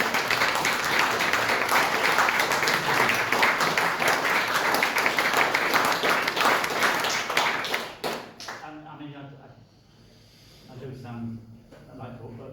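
Audience applause at a festival conversation event swells as a dense, even roar of clapping for about eight seconds, then drops away as a person begins talking.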